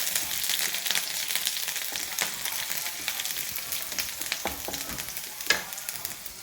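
Garlic fries in hot oil, a dense close sizzle that runs without a break, with spoon-stirring clinks and scrapes and one louder pop near the end. Nobody speaks.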